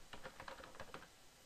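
Quick clatter of keystrokes on a computer keyboard as a single word, Tutorials, is typed, about ten close, crisp taps in a short burst with no talking.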